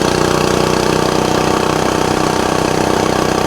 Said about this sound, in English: I'm sure this engine has a governor and all that stuff